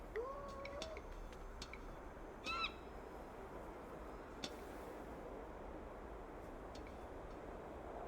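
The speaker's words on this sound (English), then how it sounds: "Beaten by a seagull again?" Several sharp squawks and calls from a seagull in the video game Broken Sword 5, faint and brief over a low background hiss.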